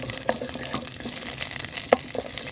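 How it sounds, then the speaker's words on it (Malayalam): Onions sautéing in a pan for gobi manchurian make a gentle, steady sizzle close by, broken by a couple of brief spatula clinks, with no one speaking. "സവാള കുറച്ചങ്ങ് ഇട്ട് കൊടുത്തൊന്ന്"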